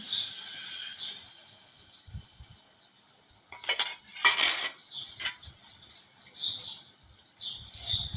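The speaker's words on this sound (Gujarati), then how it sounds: "હવે આપણે વઘાર કરી દઈએ" Garlic being tempered in a clay pot on a wood-fired stove, with clinking utensil scrapes and stirring knocks over a faint hiss, brief bursts between quieter gaps, no voices.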